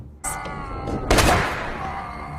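Gunfire in a film scene where an FBI agent shoots a man dead, a sharp shot followed about a second later by a louder blast that rings out and fades over a background score.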